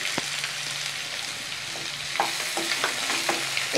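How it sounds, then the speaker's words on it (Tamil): Chopped onions, two large ones, sauté in hot oil in a pan while being stirred, a steady close sizzle running throughout with scattered scraping spatula clicks and taps, no voices. "இப்போது இந்த வெங்காயம் நல்லா கோல்டன் ப்ரௌன் ஆகிற வரைக்கும் வதக்கி எடுத்துக்கலாம்"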